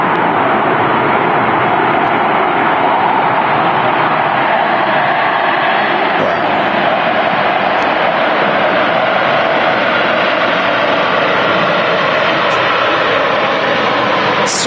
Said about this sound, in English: Such a big aircraft, the A330-300 in comparison to the 200, I think.